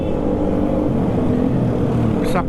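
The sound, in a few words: motorcycle exhaust on a winding uphill road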